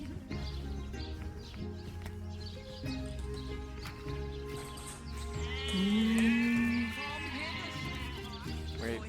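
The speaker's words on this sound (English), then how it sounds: "Wait, where's the sheep sound?" A sheep bleats once, clearly and loudly, over steady background game music in a video game town.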